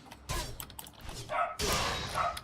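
A dog indoors gives a couple of muffled barks amid bumps and thuds, with broadband clatter and noise around them and no clear talking.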